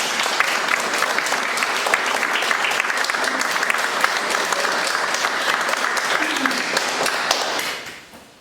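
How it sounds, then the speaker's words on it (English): An audience at a schools debate competition applauds loudly and steadily, dense clapping that holds for several seconds before fading out at the end. "let's give them a round of applause"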